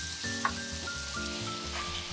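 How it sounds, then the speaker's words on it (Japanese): Marinated shrimp sizzle in a frying pan, a soft continuous crackle with a few brief clinks over a steady low hum, fairly quiet and close. "今度はマリネしたエビをフライパンで炒めていきます"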